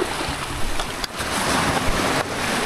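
Ocean waves crash in a continuous, loud, broadband roar, with gusting wind buffeting the microphone and no clear pauses.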